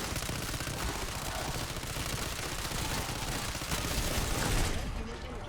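LC10 submachine gun firing in Black Ops 6 Zombies against tanky Amalgam and Mangler elites, a dense continuous stream of rapid shots with game effects, loud and near, ending abruptly as the magazine runs dry.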